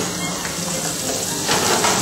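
Butter and a little oil sizzle in a pan over medium heat, a steady close hiss that grows slightly louder toward the end.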